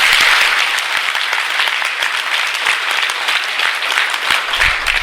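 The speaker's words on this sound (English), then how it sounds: "Just clap so that the whole building should collapse." An audience at a motivational life-goals seminar claps together in a dense, continuous burst of applause, close and loud, with no talking over it.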